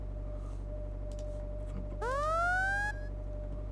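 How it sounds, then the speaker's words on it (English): A procedurally synthesized siren tone sweeps upward and holds for about a second, rising out of a steady electronic hum. "if we could work from backwards, we have the siren"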